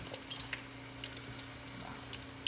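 Faint, soft sizzle of bananas frying in oil in a large frying pan, a low continuous hiss with small scattered pops.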